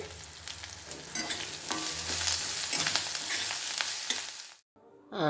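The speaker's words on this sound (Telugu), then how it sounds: "ఇప్పుడు పొటాటోస్ వేసుకున్నాము. బాగా వేపుకోండి." Potatoes frying with onions, ginger-garlic paste and turmeric in a pan, a dense continuous sizzle with stirring scrapes throughout, close up, cutting off abruptly near the end.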